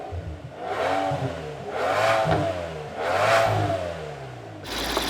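A BMW M760i with a 6.6-liter direct-injection twin-turbo V12 and an aftermarket exhaust, revved three times in quick succession, each rise swelling and falling back, close and loud, with no talk.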